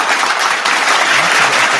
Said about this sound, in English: You have to get an applause for that one